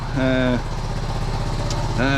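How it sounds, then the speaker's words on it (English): A 1976 Honda Z50J1 small motorcycle engine idles while warming up after a points ignition timing adjustment, with a steady, rapid chugging pulse, while two brief tonal, voice-like sounds rise over it. "Just letting the engine get up to temperature now."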